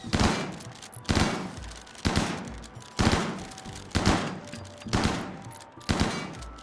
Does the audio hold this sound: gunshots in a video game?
yes